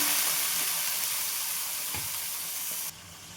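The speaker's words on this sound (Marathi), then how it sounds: "हे वाटण आहे ना छान परतून घेते मी तेलामध्ये तेल सुटेपर्यंत छान परतायचं" Spice paste sizzles loudly and continuously in oil for a Paneer Hyderabadi gravy, with occasional stirring scrapes, the hiss dropping suddenly softer near the end.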